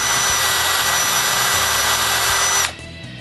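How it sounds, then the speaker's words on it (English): Power drill boring holes for the arms in a wooden snowman, a loud steady high whine with a low rumbling bite for about two and a half seconds before it cuts off, ending in quiet. "Then I drill 2 holes for the arms."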